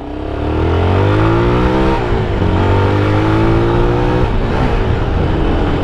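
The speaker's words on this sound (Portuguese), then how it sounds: "O motorzinho da moto dele tá redondinho" A Honda CBX 250 Twister motorcycle engine revving loudly and close, with the pitch rising and falling through several throttle blips over a continuous roar.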